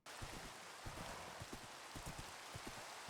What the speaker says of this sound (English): So it's raining, but at least there's no thunder right now.